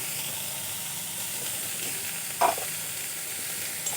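Fried eggplant sizzles steadily in a pan as fried neem leaves are added and stirred in, giving a constant hiss with a brief clatter of the stirring spoon midway, and no one talks.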